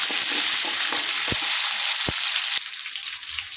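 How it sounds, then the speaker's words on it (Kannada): Peanuts, curry leaves and green chilies frying in oil in a pan for mango chitranna, sizzling steadily and loudly with a few sharp scrapes and knocks of a spoon as they are stirred. "ಈಗ ಇದನ್ನು ಚೆಂದಾಗಿ ತಿರುವಾಡ್ತೀನಿ."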